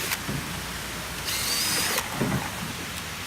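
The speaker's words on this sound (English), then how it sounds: "then you drill a pilot hole" A power drill bores a pilot hole into a hardwood deck board outdoors, giving a brief high whirring burst of about a second amid steady background hiss and noise.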